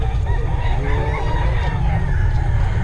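A Black McRae chicken, a gamefowl hen, clucks and murmurs amid other fowl under steady low rumbling noise, with faint talk nearby.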